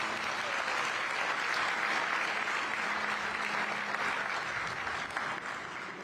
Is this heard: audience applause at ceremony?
yes